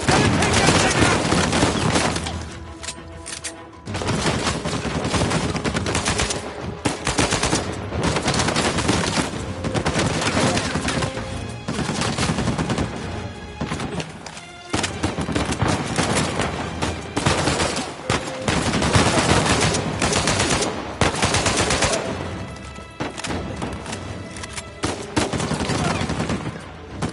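Turret gunfire in a video game: dense, continuous bursts of automatic fire and blasts for almost half a minute, loud and relentless with only a few brief dips.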